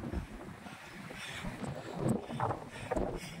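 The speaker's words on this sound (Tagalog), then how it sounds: "Lakas pa rin ng hangin." Strong wind buffets the microphone in rumbling gusts on a mountain trail on Mt. Ugo, swelling and easing with no voices.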